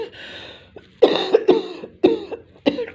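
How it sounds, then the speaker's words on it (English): A person coughs several times in quick bursts, close to the microphone, with short pauses between each harsh cough. "I'm just coughing"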